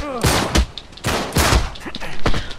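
Rapid bursts of gunfire from the Uncharted 3 video game, loud repeated shots in clusters across the moment, close and dense with sharp cracks.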